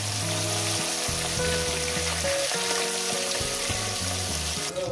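Bata fish fry in hot oil with a loud, continuous crackling sizzle that holds steady from start to finish, with no one talking.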